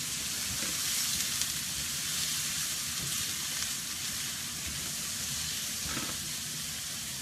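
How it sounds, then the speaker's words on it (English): Olive oil sizzles steadily in a pan while heating for a family lasagne, a dense, even hiss that holds for several seconds with no voices over it. "等啲 olive oil 咧煎煎爆到佢香一香"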